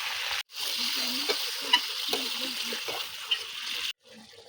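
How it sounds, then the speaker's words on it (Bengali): Frying bottle gourd and prawn curry stirred in a pan as a little water goes in, giving a steady loud sizzle with scraping, briefly cut to silence near the start and end. "এবার একটু জল দিয়ে দেবো, অল্প পরিমাণ জল দেবো।"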